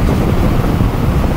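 Wind buffets a rider on a 2024 Kawasaki Eliminator 500 motorcycle, a loud, constant low roar and rumble of air across the microphone that fills the short stretch without a break.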